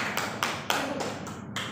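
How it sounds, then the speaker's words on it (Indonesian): Children in a third-grade classroom clapping together, a short burst of overlapping handclaps in uneven bunches, fairly soft and close, with no talk over it. "tepuk tangan kepada teman-teman yang sudah memasukkan ke kantong ajaibnya"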